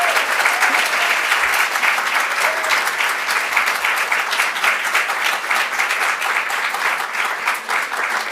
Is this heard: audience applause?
yes